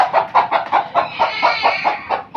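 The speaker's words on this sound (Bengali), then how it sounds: "এই মুরগিটা" A domestic hen on a small poultry farm clucks close by in a quick, regular series of about a dozen short, loud clucks with no speech over them.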